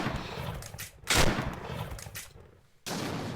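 Gunfire in the video game Forsaken, dense bursts of rapid shots and blasts, loud and close, with one especially heavy burst and a sudden cutoff before the firing resumes, no talking.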